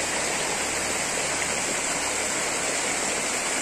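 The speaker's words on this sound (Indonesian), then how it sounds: "Ini air terjunnya." A forest waterfall at Sendang Tlimo in Kabuh, Jombang, gives a constant loud, dense roar of falling water with no breaks.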